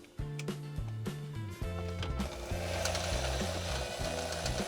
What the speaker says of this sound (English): So you want to reverse your drill